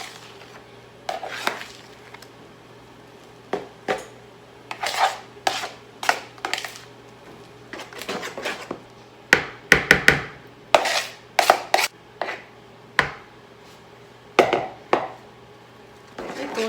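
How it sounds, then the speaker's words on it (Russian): Whipped cream being mixed into a cheesecake filling in a bowl, with irregular sharp knocks and clacks of the utensil against the bowl, some in quick clusters, over a quiet background. "Все надо хорошо перемешать. Теперь добавляем сюда взбитые сливки."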